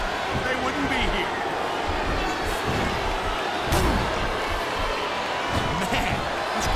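A wrestling arena crowd roars steadily in SmackDown vs RAW 2007, a loud continuous cheer with swells and a few sharp slams, under commentators talking.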